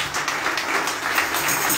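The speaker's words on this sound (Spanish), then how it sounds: "Démosle aplauso al Espíritu Santo." Church congregation applauding together during a novena vigil, a steady wash of clapping throughout the short stretch, moderately close and fairly even in level, with no talk on top.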